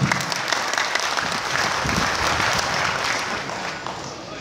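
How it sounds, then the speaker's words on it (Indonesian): An audience at a large religious gathering in Ponorogo breaks into loud, dense applause that holds steady, with faint crowd murmur mixed in. "Tepuk tangannya mana?"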